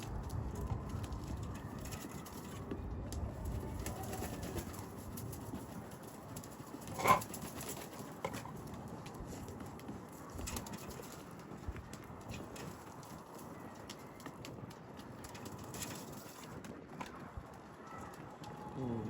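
Mardin pigeons feeding on the ground outdoors, with a continuous low murmur of cooing and soft pecking and shuffling, moderately close, plus a brief louder knock partway through.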